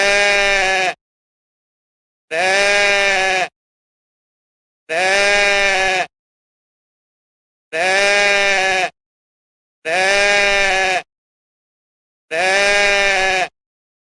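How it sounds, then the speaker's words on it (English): A goat bleats six times, each loud, harmonic, wavering call lasting about a second, with clean silent gaps between them and no other sound. "A goat made that sound."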